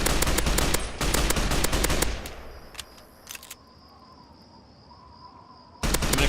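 Rapid automatic gunfire in Fallout 3 comes in a dense opening burst, then a few scattered shots over a quiet background hum, and another burst at the end.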